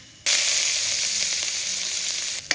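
A sudden loud sizzle as capsicum hits hot oil in a pan, crackling steadily up close before a brief stir near the end.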